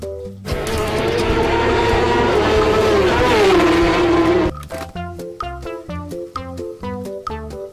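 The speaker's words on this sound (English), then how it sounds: "Racing bike. Motor balap." A high-revving engine whines loudly and sweeps downward in pitch like a racing motorbike passing, followed by upbeat music.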